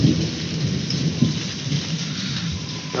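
Steady heavy rain pours down with a deep rumble of thunder rolling underneath, loud and close, no voices.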